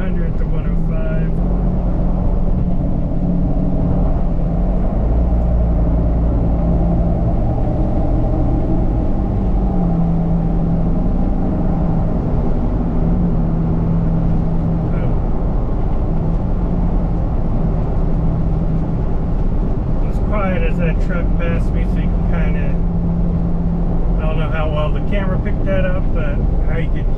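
Steady broadband road and wind roar fills the cabin of a Ford Bronco with a Bestop Trektop cruising at 50 to 55 mph, a constant low rumble with brief higher hiss swells near the end.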